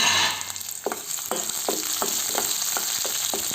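Onions fry with mustard seeds and moong dal for beetroot fry, an even loud sizzle with a regular run of spoon strokes scraping the pan about every half second, no talk.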